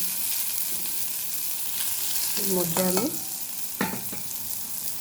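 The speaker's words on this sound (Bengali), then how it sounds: "এরপর পটলগুলো আমার ভাজা ভাজা হয়ে এসেছে" Pointed gourd (potol) frying in a pan gives a steady soft sizzle throughout, with a couple of brief stirring scrapes partway through; a voice speaks faintly in the background.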